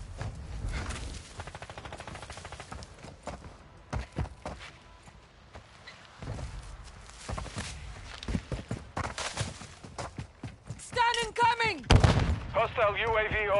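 Video game gunfire bursts out in rapid, sharp cracks scattered through the scene, loud and close at times, with footstep-like clatter and a tonal voice-like call near the end.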